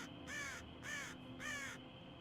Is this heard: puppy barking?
no